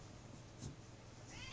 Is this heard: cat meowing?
yes